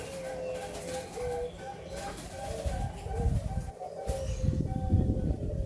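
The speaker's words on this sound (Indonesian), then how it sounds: "burung-burung hasil gurahnya Pak Iis ini luar biasa ini" Caged doves — zebra doves, pelung turtle doves and spotted doves — coo repeatedly in low, rounded tones, fairly close, with people talking and moving around nearby.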